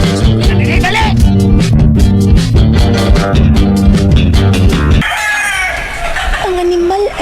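Loud rhythmic music plays, then cuts to a rooster crowing near and clear over a background hum.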